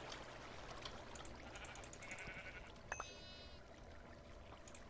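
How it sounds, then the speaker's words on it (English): Coal sheep in modded Minecraft 1.8.9 bleat softly in the distance over a faint trickle of flowing water. Two brief clicks come next, followed by a short, wavering bleat, all quiet and steady. "There are sheep up here, though. Coal sheep,"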